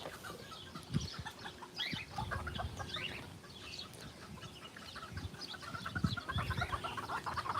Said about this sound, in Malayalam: ഇത് കോഴികളാണ് കോഴികൾ കോഴി ഫാം